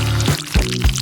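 Liquid poured over food in a kitchen, a close, loud gurgling stream broken into a few short glugs over about a second.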